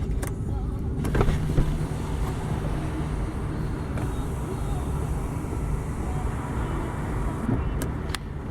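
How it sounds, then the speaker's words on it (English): A power moonroof on a 1995 Mercedes-Benz S600 sedan tilts up and slides back with a low, steady electric motor hum heard close inside the cabin, with a few clicks along the way and speech over the top. "The moonroof is a tilt up and a slide back."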